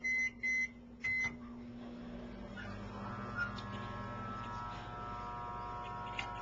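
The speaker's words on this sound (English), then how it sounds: "Okay, I'm going to put that in the microwave again for" Microwave oven running after three short beeps from the keypad, then a steady low hum with a faint whirring turntable drone continuing alone.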